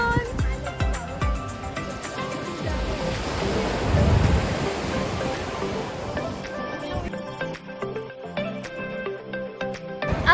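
Sea waves breaking at Blue Lagoon beach in Ilocos, a steady broadband wash of surf with a swelling crest midway, mixed with wind buffeting and light background noise.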